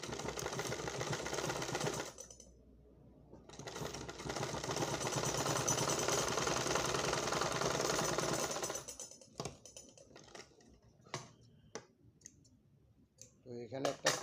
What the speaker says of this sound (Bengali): তো এখানে একটা চাপ সেলাই দিয়ে নিচ্ছি।